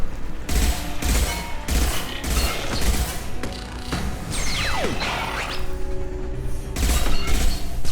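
A hacked turret fires in Mass Effect, pounding out a steady rhythm of loud, evenly spaced heavy shots, with whooshing projectiles and mechanical whirs mixed into the continuous combat noise.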